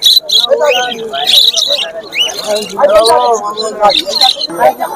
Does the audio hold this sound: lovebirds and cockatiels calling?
yes